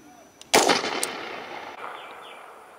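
An artillery round fires during army basic training at Fort Moore, Georgia: a single sharp, loud blast followed by a rolling echo that slowly decays into the distance, with a fainter crack shortly after.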